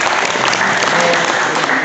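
Dense, steady applause from an audience at a ceremony honouring medal-winning wrestlers at an akhada in Sadabad, India, loud and close throughout, with a little voice mixed in.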